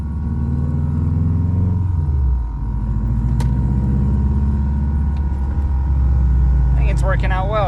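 Subaru Forester STI with adjusted camber and ride height driving on the road, a steady low engine and road rumble heard from inside the car with a brief shift in tone partway through.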